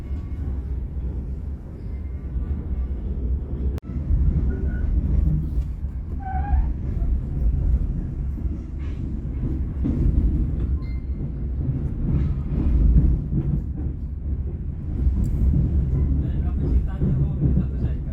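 Sancaka passenger train running along the rails, a steady low rumble and rattle of wheels throughout, with a sharp click near the start and people talking faintly inside the carriage.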